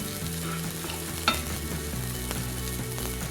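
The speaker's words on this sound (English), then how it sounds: "look at that bacon getting crispy" Australian bacon sizzles and crisps in a frying pan with a steady, even hiss and one sharp spatula scrape partway through, close and alone.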